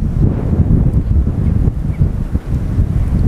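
Strong wind gusts across the microphone at a cold-water lake margin while someone fishes. It makes a loud, constant low rumble and buffeting that swells and dips, with no speech.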